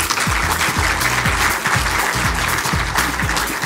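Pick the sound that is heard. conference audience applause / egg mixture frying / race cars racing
conference audience applause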